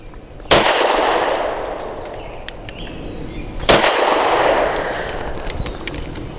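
Two sharp, loud shots from a Steyr M9-A2 MF pistol firing 138 grain rounds at an outdoor range, spaced about three seconds apart, each with a decaying echo tail.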